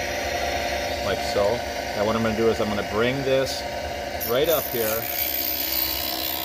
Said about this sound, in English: turn my grinder on